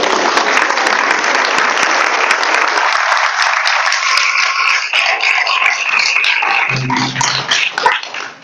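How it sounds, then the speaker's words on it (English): Audience clapping at an ISKCON initiation ceremony, a dense continuous round of applause that thins and fades toward the end, with a few voices rising through it late. "The reason you're clapping"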